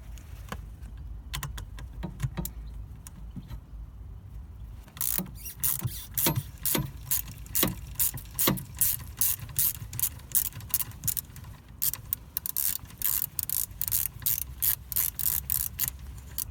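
Ratchet with a Torx star socket undoing a long filter bolt on a Vauxhall (Opel) Zafira, first in short bursts of clicks, then in a long run of rapid, evenly spaced ratcheting clicks close to the mic.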